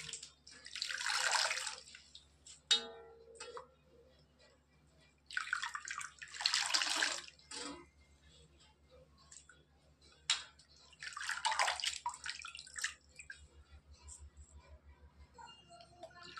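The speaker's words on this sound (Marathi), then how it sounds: "तर स्वच्छ धुवून घेणार आहोत." Fresh coriander leaves are rinsed in a bowl of water, giving three fairly faint bursts of splashing and sloshing with quiet drips and small handling sounds between them.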